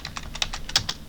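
Rapid keystrokes on a computer keyboard while entering a docker-machine command in a terminal, about a dozen crisp close clicks in an uneven rhythm, with no talking.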